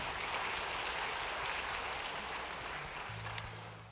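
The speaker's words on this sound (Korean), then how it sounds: "잠깐 차례에서 일어나시면 큰 박수로 위로하시겠습니다." Church congregation applauding at a Sunday worship service, a steady, dense wash of clapping from a large room that holds throughout and tapers slightly near the end, with no talk over it.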